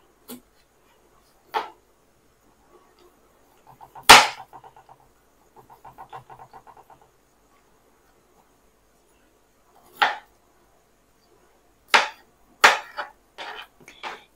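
A knife cuts fresh aloe vera into small pieces for a homemade hair dye oil, giving a handful of sharp, separate chops and taps spread irregularly across a quiet background, with a brief soft clatter in between.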